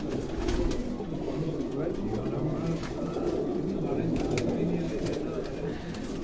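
Pigeons coo steadily in a loft in Quetta, a dense low murmur of overlapping calls running unbroken throughout at moderate level, with no clear pauses.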